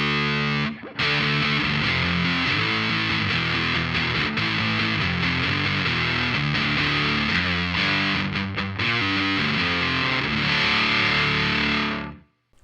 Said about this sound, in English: watch what happens when I kick on the boost